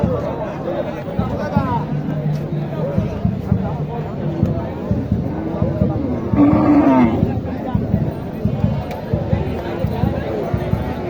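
A single low moo from a native milk cow rises briefly from a noisy cattle market in Naogaon, Bangladesh, with a crowd chattering all around.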